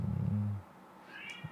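A cat meows once in a painter's studio in Boryeong, a clear close call following a low rumble, with no one talking.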